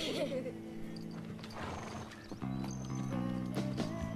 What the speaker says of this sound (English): Running a horse around a paddock